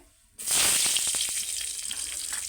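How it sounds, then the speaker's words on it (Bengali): Green chilies hit hot oil left from frying rohu fish, a sudden loud sizzle that bursts in and keeps hissing steadily. "এবার আমি ওই তেলেতেই কাঁচা লঙ্কা দেবো"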